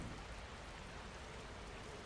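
Steady rain falls in the video game Conscience, a dense, even hiss of drops with no talking over it.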